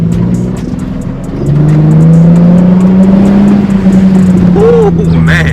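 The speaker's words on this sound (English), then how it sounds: "First exhaust note." A Nissan 350Z's exhaust rumbles up from idle into a loud, sustained drone as the engine builds revs, close and dominant, with a brief higher rev blip near the end.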